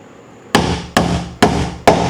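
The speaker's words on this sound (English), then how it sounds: "I just happen to have a hammer." Four sharp, loud hammer blows struck at a steady, even pace, each ringing briefly before the next, while insulating and installing an exhaust fan in a 14x40 shop.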